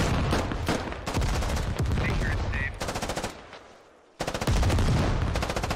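Rapid automatic gunfire from the Squad Ops video game rattles in loud sustained bursts, cutting out briefly into quieter distant pops before a fresh close burst resumes, with faint radio chatter in between.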